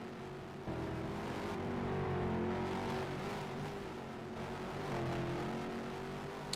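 Several race cars roar past at the Monroe Grand Prix, engines whining and droning steadily as they race, sounding moderately distant with no voices over them.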